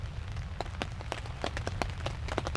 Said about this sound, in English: But that was a phenomenal amount of rain.